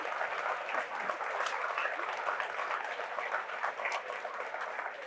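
A studio audience applauds steadily after an interview about the James Webb telescope, a dense, even wash of many hands clapping at a moderate distance, with a faint voice briefly audible underneath.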